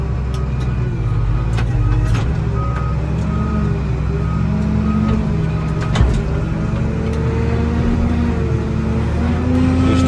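A motor grader reversing on sand, its engine a steady low drone with a repeating backup beeper chirping at regular intervals and occasional clanks over the top, with no talk.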